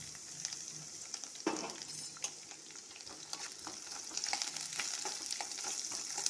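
Onion sautéing in a pan, being stirred and fried until reddish-brown: a steady, fairly quiet sizzle with occasional scrapes and clinks of a spoon, no voices.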